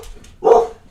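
A dog barks once indoors, a short, loud, sharp bark set against the low rush of strong wind buffeting the house.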